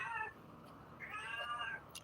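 A house cat meows twice, once briefly and then a longer drawn-out call, faint and fairly quiet against a soft room background with no clear talking.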